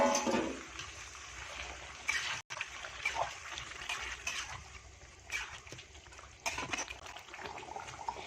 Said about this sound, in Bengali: এখন আবার একটু জল দিয়ে দিলাম।